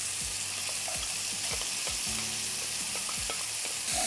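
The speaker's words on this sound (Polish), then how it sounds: "Teraz wrzucamy cebulę i czosnek." Loud, continuous sizzling of onion and garlic frying with browned bacon in a pan, with repeated clanks and scrapes of a utensil stirring against the metal.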